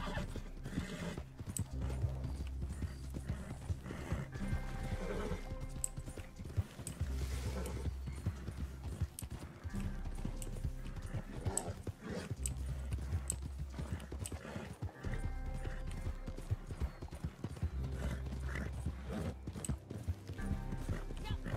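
Horse hooves clip-clop steadily with repeated whinnies and neighs in the video game Hunted, all over a continuous game soundtrack and ambience, with some talk mixed in.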